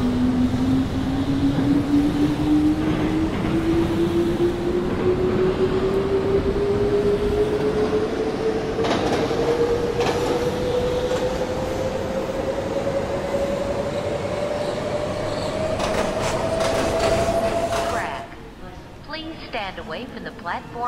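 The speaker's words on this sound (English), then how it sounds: "especially when trains are entering and leaving the station." An A-C-E subway train at the 42nd St Port Authority station, its motor whine rising steadily in pitch as it pulls away, loud and continuous with rumbling wheels, then a brief clatter before fading; a platform announcement plays over it.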